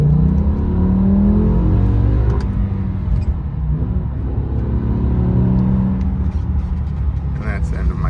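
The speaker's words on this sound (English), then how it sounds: "I'll give it a little gas here" A BMW M6 engine revs under acceleration while driving, a steady loud rumble that rises in pitch, with someone talking over it.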